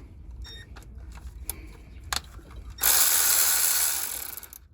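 Ratchet clicking while removing 10mm timing cover bolts on a Toyota 4.7L V8 from a Sequoia or Tundra, a few short turns of clicks followed by a longer, louder continuous ratcheting run, close up.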